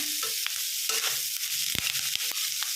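Cut beetroot pieces fry and get stirred in a pan for beetroot chutney, a hissing sizzle broken by scraping strokes and light utensil taps, no talking.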